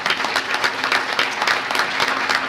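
Steady, dense audience applause at a local business challenge contest, loud and sustained for the whole stretch with no talk over it.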